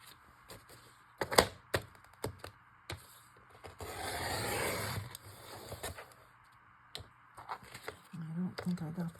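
A paper strip for a belly band is cut on a cutting board, giving a run of sharp clicks and taps around a longer scraping cut, with a voice speaking intermittently.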